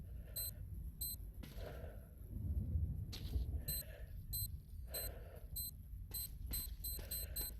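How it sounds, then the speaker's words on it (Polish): Electronic beeping from an anomaly detector in the S.T.A.L.K.E.R. Call of Pripyat Misery 2.1.1 mod, sounding as short repeated high-pitched pulses in irregular clusters over a low background rumble, with no talk. "Ale czemu czujnik tak krzyczy?"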